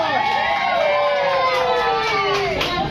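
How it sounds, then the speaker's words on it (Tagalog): A crowd of schoolchildren cheers and shouts together in a continuous, lively burst of high voices, close and loud throughout. "Palakpak naman kay Kuya Sumaw."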